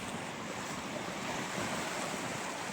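Big waves of the Pacific Ocean in the Salish Sea wash in as a steady roar of surf, loud and continuous, with wind buffeting the microphone and no voices.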